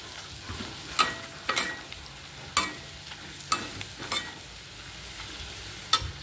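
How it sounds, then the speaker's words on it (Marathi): Spices including red chilli powder are stirred into frying onions for a bitter gourd dish, with a soft continuous sizzle broken by several sharp spoon scrapes against the pan. "आता हे मसाले पण आपण थोडेसे असे कांद्यामध्ये मिक्स करून घेऊया।"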